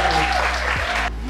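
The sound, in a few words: applause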